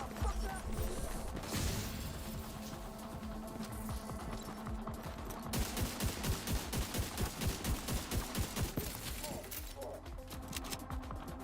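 Gunfire in The Division 2, a shooter set in New York, with rapid rhythmic bursts of shots rattling through the second half over a dense, busy game mix.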